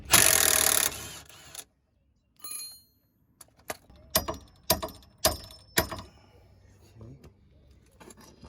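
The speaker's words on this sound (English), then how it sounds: "I'm holding it with an 18 millimeter wrench. I'm gonna come through here." An 18 mm wrench working a bolt on the rear passenger-side suspension of a Dodge Charger R/T 5.7, giving a burst of noise and then a run of sharp metallic clicks and ratchet-like taps, close and fairly loud.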